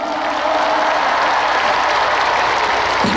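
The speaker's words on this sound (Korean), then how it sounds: "큰 박수 한번 맞추시겠어요?" Audience at an Ansan festival super concert in October bursts into loud, dense applause, a continuous wall of clapping close by from start to finish.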